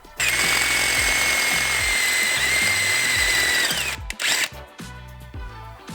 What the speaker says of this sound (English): I don't want to drill too far